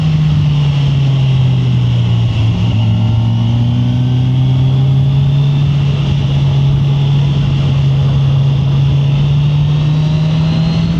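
A 2024 Kawasaki Ninja 1000 SX sport-touring motorcycle being ridden uphill and into corners, its engine a loud, smooth, steady drone whose pitch slowly dips and rises, mixed with wind rush, with no talk.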